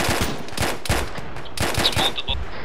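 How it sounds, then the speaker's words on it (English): Arma 3 gunfire: rapid bursts of automatic rifle or machine-gun shots, loud and close, a few quick volleys across a couple of seconds with no talking. "Sam, permission to engage? Yeah, open for fire."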